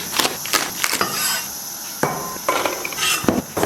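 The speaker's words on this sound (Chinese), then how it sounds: "咱们切点这个葱段和姜片" A knife chops scallion segments and sliced ginger on a wooden cutting board, giving a few sharp, close knocks in uneven bursts with short pauses between them.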